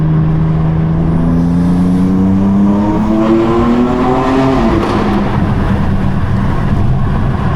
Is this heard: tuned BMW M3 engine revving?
yes